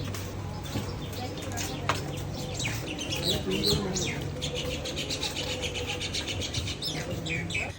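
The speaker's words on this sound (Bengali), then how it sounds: "এত সুন্দর পাখি ডাকতেছিল" Birds chirp and call repeatedly in an open field setting, bright tweets scattered across the whole stretch over a steady background hum.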